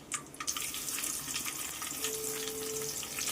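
Chopped onion dropped into hot oil with whole spices such as black cardamom and peppercorns for a chicken gravy, a soft steady frying hiss after a brief clatter at the start, faint and close.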